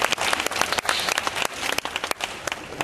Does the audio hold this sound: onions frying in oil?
no